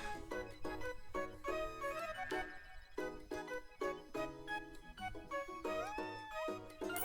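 A cat meows repeatedly in the cozy street game Minami Lane, short mews scattered over a gentle, busy musical backdrop.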